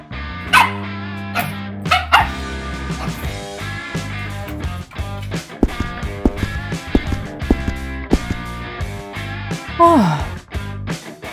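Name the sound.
dog barking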